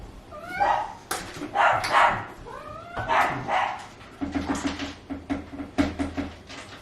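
Two little dogs bark and yip eagerly for treats at home, a quick run of sharp high barks close by, then a rapid string of shorter yaps.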